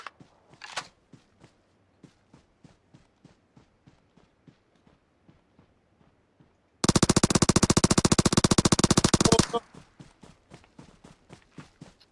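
Uzi fire in PUBG Mobile: a long, dense, loud automatic burst lasting a few seconds, preceded and followed by a steady run of soft footsteps.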